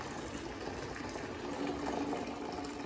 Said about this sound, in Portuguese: na hora de colocar a água fervendo, tá?